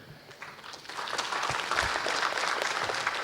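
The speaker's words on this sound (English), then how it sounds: "a round of applause once again to all the panelists here" Audience applause for the panelists at an Islamic finance debate, starting thin and swelling into steady, dense clapping that holds through the end.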